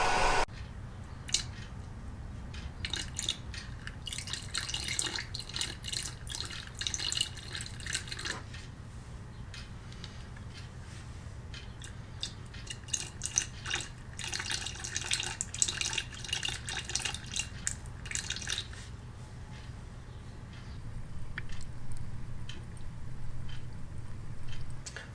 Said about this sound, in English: I have to add a little water to them.